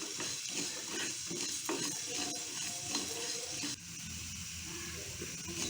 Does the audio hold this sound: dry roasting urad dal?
yes